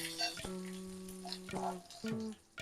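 Mustard seeds, urad dal and chana dal crackle and sizzle in hot sesame oil, a steady close frying hiss with scattered pops and a few clinks of a utensil.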